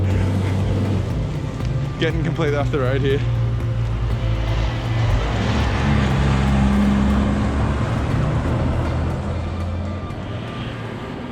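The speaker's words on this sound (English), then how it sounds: "There's a massive truck and it is terrifying." A massive truck roars past close to a road cyclist on an Australian road, a loud, sustained rumble of engine and tyres filling the whole stretch, with someone talking over it early on.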